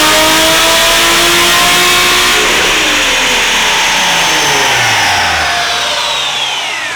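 A Nissan 350Z HR engine with cold air intakes revs hard and loud on a dyno in one continuous pull, the pitch climbing steadily through the gears, then dropping away as it winds down.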